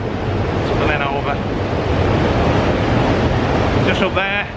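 Water spilling over a canal lock in Manchester, heard as a loud, continuous broadband rush. Traffic noise blends into it, and a couple of faint whistling tones rise above it.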